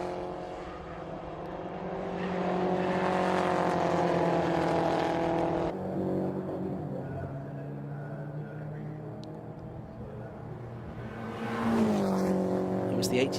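Race cars at the Brands Hatch Indy circuit, a roaring engine drone with tonal whine rising and fading as cars pass, with commentary talking over it throughout.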